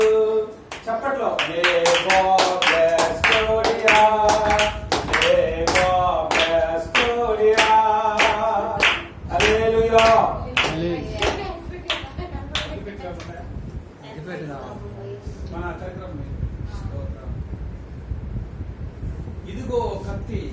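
Steady rhythmic hand clapping from a group at a birthday celebration in a church hall, ringing out alongside loud group singing for most of the stretch and fading to scattered claps near the end.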